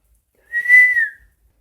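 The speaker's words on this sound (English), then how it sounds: "Maybe you could some whistling" A single clear whistled note, rising slightly then held and sliding down, brief and alone in otherwise silent surroundings.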